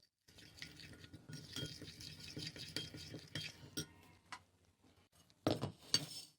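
Chicken marinade of spices and white vinegar is stirred in a bowl, making a quiet rhythmic run of spoon scrapes and clinks against the sides that pauses and ends with a couple of sharper taps.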